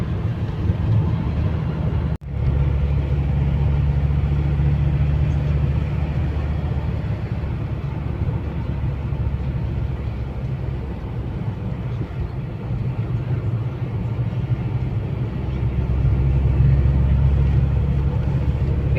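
A car drives along a mountain road in Norway, a steady low rumble of engine and road noise heard from inside the cabin, continuous and even, with one sharp click early on.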